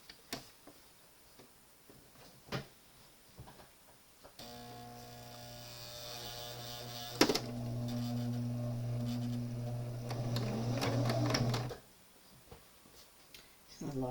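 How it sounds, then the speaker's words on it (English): A sewing machine stitches a shoulder strap in a steady, buzzing run lasting about seven seconds, with scattered clicks and handling taps before and after it. "Just needs a couple little stitches to hold it in place."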